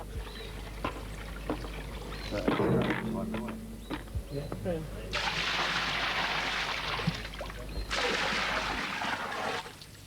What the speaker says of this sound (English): Right, water in as quickly as possible now.